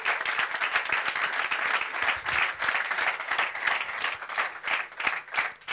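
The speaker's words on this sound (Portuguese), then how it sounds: "Salve palmas para o Fernando Rocha, que se lembrou de pôr isto no YouTube." Steady applause from a live comedy audience, many hands clapping loudly and continuously in an even, lively rhythm.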